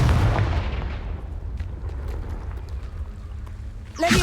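In the video game Hogwarts Legacy, the Confringo explosive spell goes off as a loud booming blast that rumbles and decays over a few seconds, followed by a sharp burst at the end.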